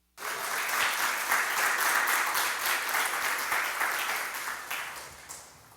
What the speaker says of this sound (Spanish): Dele un aplauso de alabanza.